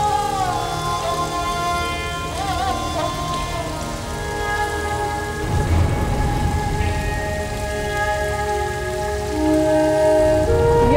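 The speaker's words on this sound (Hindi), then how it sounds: "आज ये बारिश ना थमे और तेज बारिश हो।" Heavy rain falls in a continuous loud wash in a TV drama scene, overlaid with sustained background music, and a deeper rumbling swell midway may be thunder.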